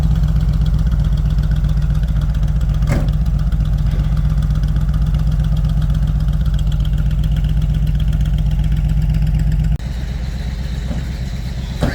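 A Bombardier engine runs steadily at close range with a deep, even low rumble and a sharp knock near three seconds, then drops to a quieter idle near the end, with no talking.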